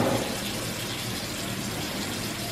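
Water is poured or sprayed onto gel-styled curly hair to reactivate the gel, a steady continuous splashing rush lasting the whole clip at close range, with no talking.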